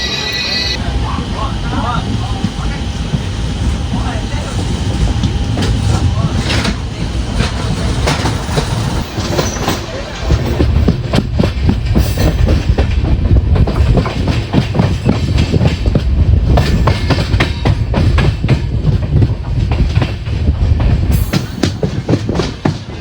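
The Rocket Express pulls into an Indian railway station with a loud, rhythmic clickety-clack of wheels over rail joints and a heavy rumble, while voices sound over it.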